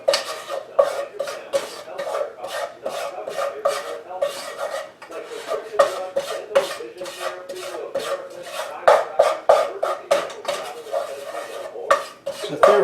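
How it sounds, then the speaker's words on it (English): A wooden stick scraping and stirring around a non-stick pot of Thai chicken curry coconut soup, rapid rhythmic strokes and rubbing scrapes repeating steadily, close and fairly loud. "So I have a non-stick pot, so I have to use a wooden stick in it."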